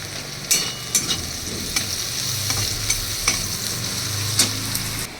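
Green chillies and onion sizzle in hot oil in a pan, a continuous frying hiss broken by several sharp clicks and scrapes of a spoon stirring, close and fairly loud.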